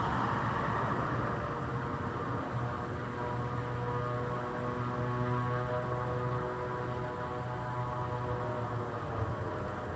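A Beechcraft 350 King Air idling on the ground at Albany International Airport, a steady droning engine hum with a high whine, constant and unbroken throughout, heard from a short distance with no voices.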